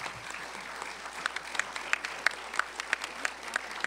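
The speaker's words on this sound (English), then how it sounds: "Would you all give a round of applause to our panelists?" An audience applauds panelists at a youth violence prevention task force presentation, a steady wash of clapping with a few louder, sharper claps standing out near the listener, and no talk over it.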